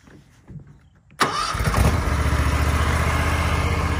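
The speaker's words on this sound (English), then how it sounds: "Starts very strong. Brand new mower." A brand-new John Deere Ztrak 740R zero-turn mower engine cranks after a quiet moment and catches quickly, settling into a loud, steady idle close by.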